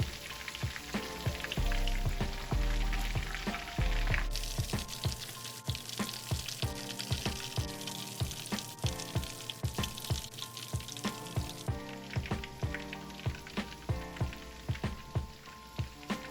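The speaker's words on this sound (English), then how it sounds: "Now frying some more fish." Fish frying in oil: a dense, steady crackle and sizzle, with intermittent clinks of a utensil against the pan and no talking.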